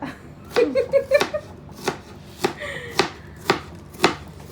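Onions chopped on a board by hand, a run of about nine sharp, close knife strikes at an uneven, unhurried pace, a faint voice briefly in the background.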